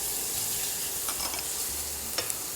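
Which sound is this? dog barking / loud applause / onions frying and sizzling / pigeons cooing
onions frying and sizzling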